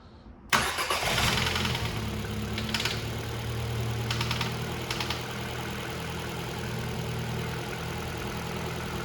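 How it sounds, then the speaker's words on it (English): A Volkswagen Scirocco that sat a year on six-year-old fuel cranks briefly and catches, then settles into a steady, slightly rough idle that runs on close by. "The Scirocco started."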